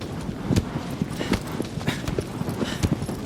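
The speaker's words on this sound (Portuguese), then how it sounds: "o silêncio sendo quebrado pelo cavalgar de agro" The horse Agro gallops across open ground in Shadow of the Colossus, its hooves making a steady, fast clip-clop rhythm that sounds close and fairly loud over a soft ambient wash, with no talking.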